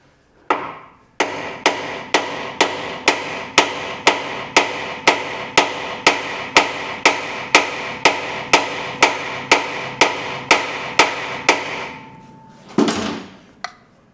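Repeated metal hammer blows strike a Land Rover Defender steering drop arm, about twenty sharp evenly spaced taps in a steady rhythm, close and loud, followed by a brief scraping clatter near the end.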